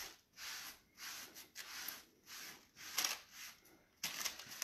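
A damp paper towel is rubbed in repeated soft strokes over a stencil used with texture mud, giving close, rhythmic swishing wipes with brief pauses between them.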